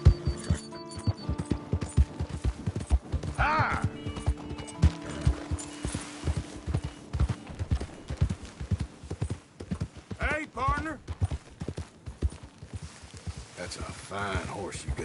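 Horse hooves clip-clop steadily in Red Dead Redemption 2, a rhythmic run of close, crisp beats under in-game voices, with a short whinny and other game sounds mixed in.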